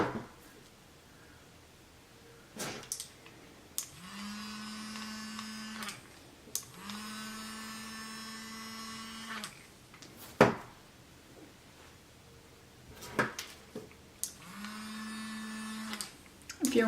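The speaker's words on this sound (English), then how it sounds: "yes, that is my straightener vibrating." A hair straightener vibrating in short buzzing bursts of a few seconds each, three distinct spells separated by quiet gaps with occasional clicks and handling knocks, close and fairly soft.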